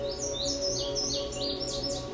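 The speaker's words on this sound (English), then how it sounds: "The song of the male indigo bunting is lengthy and complex" Male indigo bunting singing a lengthy, complex song in summer open shrubland near woodland at Otter Lake in southern Ontario, a steady series of high, sweeping phrases repeated one after another over a faint constant hum.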